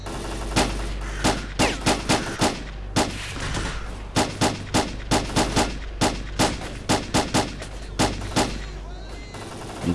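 Gunfire in the video game S.T.A.L.K.E.R. Clear Sky during a fight through Limansk, with loud, close shots coming in rapid, irregular bursts over a steady low rumble of game noise throughout.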